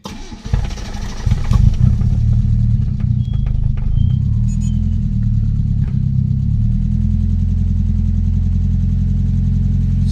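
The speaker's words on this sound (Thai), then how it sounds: "เดี๋ยวลองมาสตาร์ทดูนะครับ ว่ารอบสตาร์ติดง่ายไหม" A Mitsubishi 4G91 twin-cam engine, converted to a full vacuum system, cranks briefly and catches, then settles into a loud, steady idle with a slight hunt in its revs, close up and with no talking.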